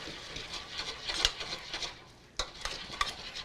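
Butter being stirred into a reduced sauce in a hot pan with noodles, a steady soft sizzle under repeated scraping and stirring strokes, with a few sharp utensil clinks against the pan.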